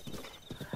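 Horse hooves clip-clop in the video game Zelda: Breath of the Wild, a quick, close run of several hoofbeats in an uneven rhythm.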